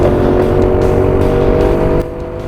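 A race car with a failing engine at a GX-UK round at Rowrah drones loudly and continuously up close, its pitch holding fairly steady before the roar drops off suddenly near the end.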